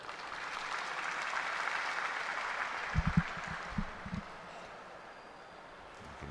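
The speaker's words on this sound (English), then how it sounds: "You can hear the applause from the crowd." Soft, distant crowd applause in the arena at a World Cup of Pool match in the Philippines, a low patter of clapping with a few louder thumps in the middle over quiet room ambience.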